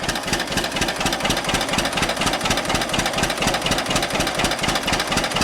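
An original John Deere 50 tractor fitted with two-row cultivators idles nearby, its engine pulsing in a steady, loud, rhythmic chug throughout.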